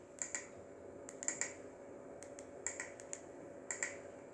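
Sharp, loud clicks from the power button of a Samsung Galaxy A31 phone, pressed in scattered pairs and singles about eight times, close up with no talking and a low steady hiss underneath.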